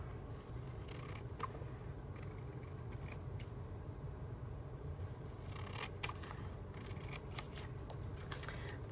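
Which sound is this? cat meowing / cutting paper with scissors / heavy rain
cutting paper with scissors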